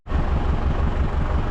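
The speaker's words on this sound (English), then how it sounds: "Can I just pull the tractor back?" A farm tractor with a tedder attached backs up over straw, its engine giving a close, steady low rumble for a short moment with no talking.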